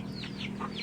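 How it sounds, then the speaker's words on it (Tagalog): Chickens and young chicks on a small mini farm, a few short close clucks and chirps in quick succession over a faint background hum. "dito yung mga manok natin"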